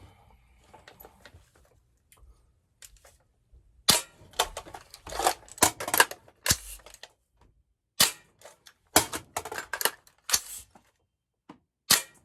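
An AR-15 fitted with a UTM training bolt, dry-firing an iTarget Pro laser cartridge, gives off sharp mechanical clacks and snaps, scattered at first and then in quick irregular bursts, close by with no talking.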